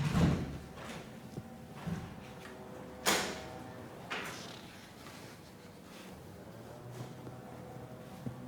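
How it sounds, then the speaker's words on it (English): A door in a meeting room at a candidates forum swings shut and is locked, a sharp thud followed about a second later by a softer clack, set against a low, steady room hum. "You go lock down the door."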